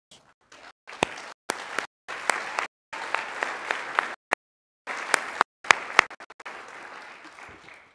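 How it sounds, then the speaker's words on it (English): Families and guests at a school board meeting applaud honorees, with steady clapping broken by gaps and sharp individual claps, then a softer continuous patch of applause at the end. "Please join me in an applause."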